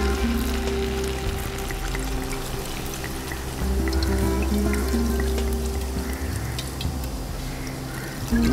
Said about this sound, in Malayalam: നമുക്ക് നോക്കിയിട്ട് ആവശ്യത്തിന് വെള്ളം ഒഴിച്ചു കൊടുക്കാം